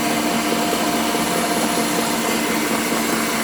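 An electric mixer hums steadily and loudly while beating banana mango loaf batter, a constant whirring drone with no pauses and no voices.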